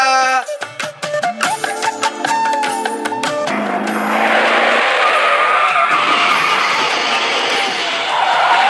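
A vehicle skidding and crashing sound effect played loudly during a stage dance performance, with sharp slams and tire squeals giving way to a sustained roaring screech, no talking.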